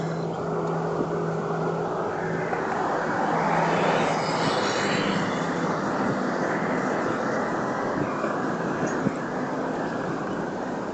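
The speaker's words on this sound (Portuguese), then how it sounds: "Ouvi o motor rugindo." A loud, continuous car engine roar swells and fades slightly over a long stretch, broad and steady like a large motor running nearby.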